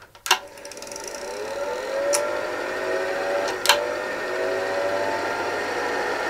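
A 50-year-old Bolex M8 8mm film projector runs with a steady mechanical whir and a faint tonal hum, broken by a few sharp clicks near the start and midway.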